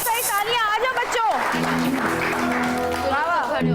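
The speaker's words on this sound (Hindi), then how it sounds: "इन प्यारे प्यारे बच्चों के लिए बहुत सारी तालियां बजाइए जी" An audience claps for a group of children on a television show, with a continuous patter of applause sitting under prominent speech and a sung or musical voice throughout.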